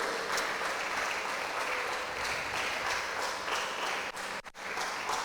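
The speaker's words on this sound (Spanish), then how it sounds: "Dale otro fuerte aplauso a Dios." A church congregation at a Sunday service gives a loud round of applause, a thick, continuous clapping that dips briefly near the end before resuming.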